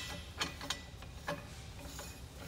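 Metal threads engaging as a setting sleeve adapter is screwed onto a setting sleeve over a shear mandrel, giving a few faint, close ratcheting clicks against a steady background hum.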